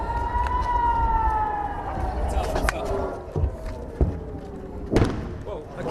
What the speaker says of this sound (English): the sirens are near non-stop in towns close by